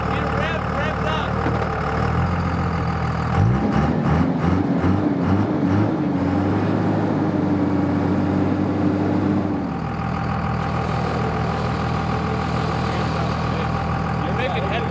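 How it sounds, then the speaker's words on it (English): Engine of a stuck 10,000 lb truck camper, its axle buried, revs up hard in the middle, rising to a sustained strained drone before dropping back to a lower idle, with a steady rumble before and after. "Get it revved up."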